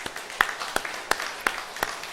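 A small church congregation claps to give thanks to God during a Sunday service, sparse, separate hand claps landing at a slow, uneven rhythm.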